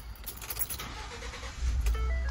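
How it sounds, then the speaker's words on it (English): A Ford F-150 pickup is started, with faint clicks and rustling before the engine catches and settles into a low rumbling idle that swells near the end, heard close with no talking. "the first thing you're going to do is turn the car on."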